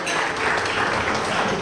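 Loud, steady applause from a restaurant crowd at a Saf Travel breakfast gathering, welcoming a woman to the front, a continuous close wash of clapping throughout.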